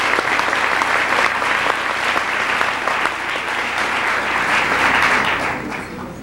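Sustained audience applause after a university lecture, a dense steady wash of many hands clapping at full strength for about six seconds before easing slightly at the end, with no voices over it.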